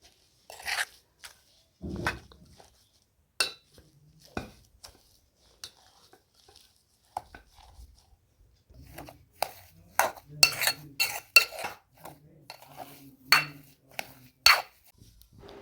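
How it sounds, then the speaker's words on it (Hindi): Samosa filling ingredients mixed together in a bowl, heard as intermittent clinks, knocks and scraping of a utensil against a dish, close, sparse at first and then busier, with no talk. "अब इन सब चीज़ों को अच्छे से मिलाना है।"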